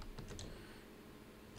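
A few crisp computer keyboard key presses, including the Shift key, clicking close and quietly during 3D modeling work in Maya, with short gaps between taps.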